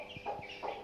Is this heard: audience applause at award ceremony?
no